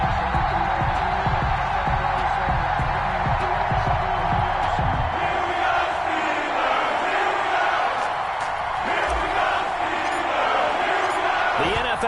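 Stadium crowd noise in an EA Sports NFL video game, Chicago Bears against Pittsburgh Steelers, with a steady roar of fans and cheering filling the whole stretch, loud and continuous with swells of excitement.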